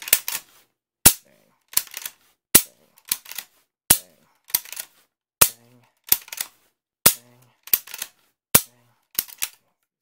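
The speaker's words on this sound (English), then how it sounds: "why don't we just dry fire it a bunch of times" Dry-fire trigger clicks from a Mosin Nagant Type 53 rifle, a dozen or so sharp, close mechanical snaps in an irregular series, some doubled with the faint clack of cycling the bolt, with no talk.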